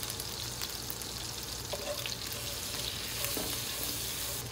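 Whole spices and hing crackle in hot oil for dum aloo, a continuous, moderately loud sizzle with a few faint clinks and no voices.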